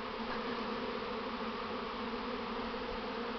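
A honey bee swarm circles under a shelter, producing a continuous, even droning hum from countless wings, soft and steady throughout with no voices.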